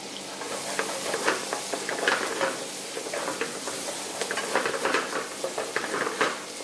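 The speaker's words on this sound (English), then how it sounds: "We'll have to wait for the onion to go light brown." One whole finely chopped onion fries in a pan at a restaurant kitchen. It sizzles steadily, with frequent stirring scrapes and light clinks of the utensil against the pan, up close and with no talk.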